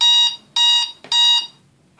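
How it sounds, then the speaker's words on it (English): A move timer in a tabletop wargame goes off with a sharp electronic alarm. It gives three loud, bright, buzzing beeps in quick succession, close by with no talk. "or the timer finally elapses."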